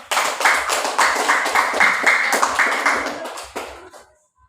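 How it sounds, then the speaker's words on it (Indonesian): A classroom of people clapping together in a dense, lively round of applause that holds steady for about four seconds and then fades out to silence. "Ayo kasih aplaus dulu."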